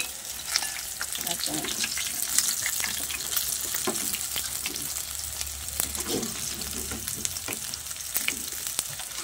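Laruka pieces fry in a pan with a steady, close oil sizzle that runs throughout, broken by scattered crackles and pops.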